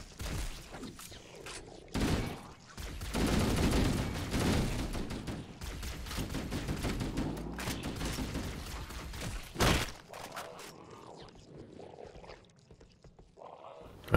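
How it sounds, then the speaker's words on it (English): Assault rifle fire in Halo: CE Anniversary comes as dense, loud sustained bursts with crashing impacts and a sharp thump near the end, then eases off into quieter game ambience. "I wondered where that assault rifle fire was coming from."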